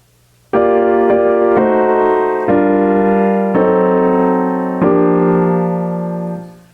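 Sustained electric piano chords in drop 2 voicing for a jazz arrangement, five clear, evenly spaced changes played alone and close, with the last chord ringing out and fading.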